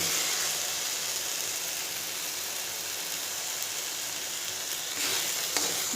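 Masala frying for a homemade chicken curry, a steady bright sizzle and crackle of spices in hot oil that holds evenly throughout, with a faint stir or scrape near the end.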